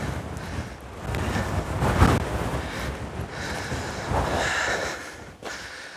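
Strong, gusting wind buffets the microphone beside a flowing lava field in Iceland's Natthagi valley, a loud broadband roar that swells and surges continuously, peaking around the middle before easing slightly, with no talking.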